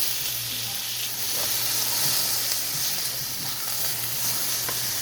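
Chopped pork chops and onions sizzle steadily in a skillet, a loud continuous crackling hiss held close throughout, with a faint low hum underneath and no talking.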